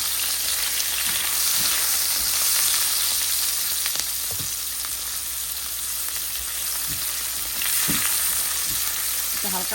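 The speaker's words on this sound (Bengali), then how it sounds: "হালকা বাদামি করে আমি ভেজে নিচ্ছি" Chopped onion frying steadily in mustard oil, with fish already in the pan, giving a continuous close sizzle with occasional soft stirring knocks and scrapes.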